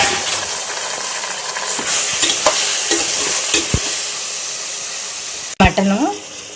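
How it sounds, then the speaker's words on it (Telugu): Mutton and tomato pieces stir-fry in a hot pan, a steady loud sizzle with scattered scrapes of a stirring utensil, ending in a sharp clatter and a brief burst of agitated frying. "ఇప్పుడు కడిగి పెట్టుకున్న మటన్ వేస్తున్నాను."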